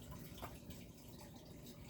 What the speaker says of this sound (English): we're going to take the clam flavor from the clam broth that we bought from Cloverleaf, and we're going to pour that in as well